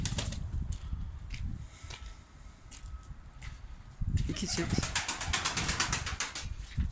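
Performance pigeons of the boz takkalı type in a coop in Ankara, with bursts of wing flapping and rustling close by, louder in the second half, while someone speaks briefly.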